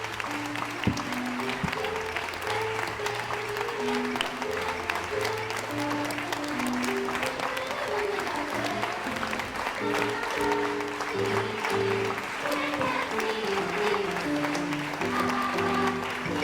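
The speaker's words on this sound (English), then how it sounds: "Can we give them a round of applause?" An audience at a school annual day applauding a grade 5 class on stage, a steady wash of clapping with loud music playing over it throughout.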